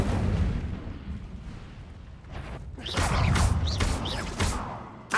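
Incendio fire spell cast in Hogwarts Legacy: a low roaring rumble gives way to a burst of whooshing, crackling flame with several sharp bright accents, fairly loud and close.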